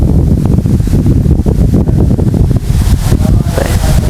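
Loud, blustery wind buffeting the microphone with constant low rumbling gusts and roaring.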